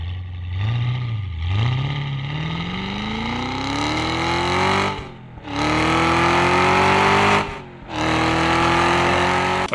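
The engine of a 2021 Cadillac CT5-V Blackwing manual sports car revs up repeatedly with a rising, throaty exhaust roar, loud and close, dropping off briefly between pulls.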